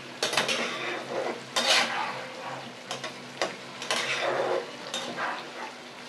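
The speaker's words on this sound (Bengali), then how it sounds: "একটু ভালো করে নেড়ে দিতে হবে" A spoon stirs tangra fish tel jhal, a Bengali fish curry in oil, in a pan, scraping and clinking in uneven bursts over a soft background sizzle.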